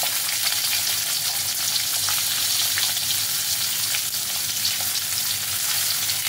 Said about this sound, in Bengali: রসুনটা তেলের মধ্যে ভেজে নিয়ে এর মধ্যে আমি দিয়ে দিচ্ছি কেটে রাখা পেঁয়াজ